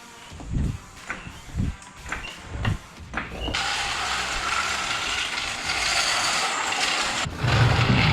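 A Mustang GT is raised into the air on a lift before lowering springs are fitted: a few mechanical clacks and ratcheting clicks, then a steady loud whirring hum of the lift motor that runs on for several seconds.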